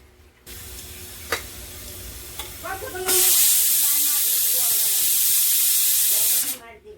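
A pressure cooker with lentils and water inside lets out its whistle, a loud, steady rush of hissing steam lasting a few seconds before cutting off, preceded by faint clicks and stirring noises with a voice talking.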